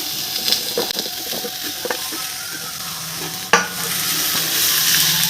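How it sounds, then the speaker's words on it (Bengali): Vegetables for Bengali shukto, including drumstick stalks, stirred in a frying pan, with steady sizzling and repeated scraping strokes and a sharp clack midway, close and moderately loud with no talking. "আর সমস্ত সবজিগুলো একটু ভালো করে নাড়াচাড়া করে নেব"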